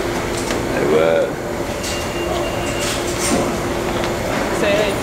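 A New York City subway train rumbles inside a station with steady mechanical hum, faint squeals and rattling, while people talk nearby.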